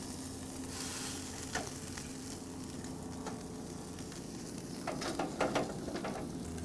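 Thick tomahawk ribeye steaks searing on a 1500°F grill just after being flipped: a steady, moderately faint hiss with scattered clicks and a few louder spatters near the end.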